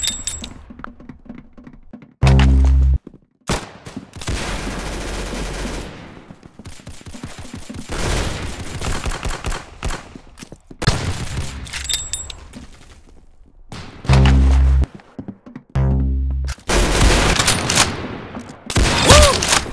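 Rapid bursts of gunfire in the Roblox game Arsenal, loud clusters of shots separated by short gaps, repeating throughout with mechanical clicks between volleys.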